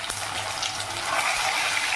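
Ginger garlic paste frying in a pan for a spicy chicken pickle makes a steady, hissing sizzle, close and continuous with no talking.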